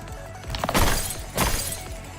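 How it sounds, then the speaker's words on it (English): Crystals break in the NIKKE video game, two sharp shattering bursts about half a second apart, bright and crackling against a low background. "It sounds like the crystals are breaking."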